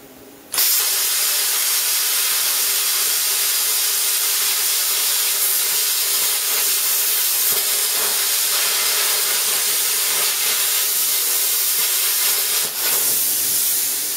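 A plasma cutter cuts a small bolt hole in steel, starting abruptly and then holding a loud, steady, close hiss with a crackling edge that runs unbroken for about fourteen seconds, with no talk over it.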